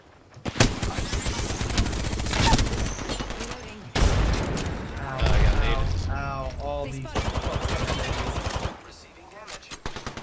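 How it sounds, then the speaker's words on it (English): Apex Legends gunfire fills a firefight: bursts of rapid automatic shots in several volleys, loud and near, broken by short pauses, with a player talking over parts of it. "I'm getting shot at by another team."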